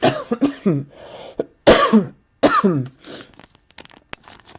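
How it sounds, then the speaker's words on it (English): Several coughs, close and loud, come in separate bursts with brief gaps, trailing off into smaller throat-clearing sounds. "I do cough the right way into my elbow"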